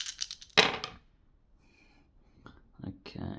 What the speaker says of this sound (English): So, roll dice onto your map.